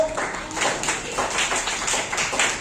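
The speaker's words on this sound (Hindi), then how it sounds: "तो बच्चों उमेश सर के लिए तालियां बजा दो।" Children clap for their teacher at a Teachers' Day celebration, a steady patter of many small hands lasting a few seconds at moderate loudness, with voices faintly mixed in.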